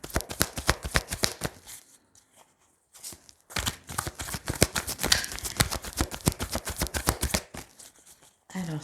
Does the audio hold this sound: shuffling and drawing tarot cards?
yes